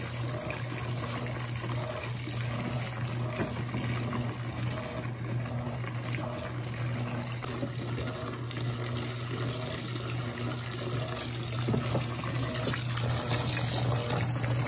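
Water flowing inside an Electrolux Perfect Care LEV17 17 kg washing machine with steam system, a steady rushing, gushing stream with a constant low hum from the running machine, continuous and fairly close throughout.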